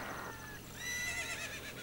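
Epona, the horse in the video game The Legend of Zelda: Ocarina of Time, gives one faint, high whinny that rises and wavers over quiet game background sound.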